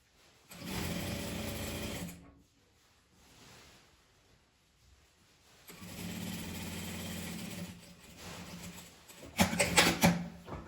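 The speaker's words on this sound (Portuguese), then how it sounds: "Eu passei só uma costura, fechando essa alcinha" Sewing machine stitching a small bag strap closed: two bursts of steady whirring, near and fairly loud, separated by a quiet pause with faint handling, then a short faster run at the end.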